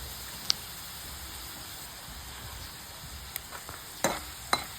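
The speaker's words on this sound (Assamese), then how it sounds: "নিমখ দিয়াৰ পিছত পিঁয়াজটো আৰু অলপ ভাজি ল'ম ভালকৈ" Chopped onions frying in a pan, a soft steady sizzle with a few louder clinks and stirring scrapes near the end, close and fairly quiet.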